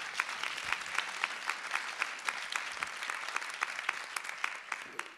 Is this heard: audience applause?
yes